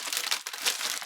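A crinkly plastic pack of craft material being opened, giving a close, steady burst of crackling and rustling with no voice.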